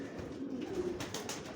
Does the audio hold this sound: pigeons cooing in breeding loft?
yes